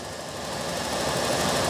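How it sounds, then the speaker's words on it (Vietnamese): A 2005 Suzuki Zace GL car engine idles steadily and smoothly, a continuous low mechanical hum with a faint knocking texture that grows slightly louder toward the end. "Ở cục máy nổ khá là êm"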